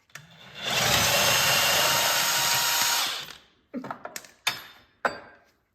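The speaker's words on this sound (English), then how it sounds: "So let's start by taking out the 2 bolts on the fair lead." A power tool whirs loudly for about two seconds while removing a fairlead bolt on a CFMoto winch, then stops, followed by a few sharp clanks and knocks of metal parts being handled.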